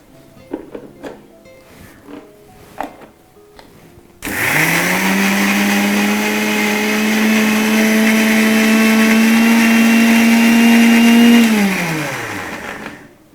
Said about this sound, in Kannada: ಕೊಡಿ ಅದು ಮಿಕ್ಸಿಗೆ ಹಾಕೊಂಬಿಡ್ಲಾ